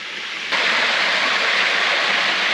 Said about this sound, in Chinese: 前面又有瀑布了，是上下2层的连续瀑布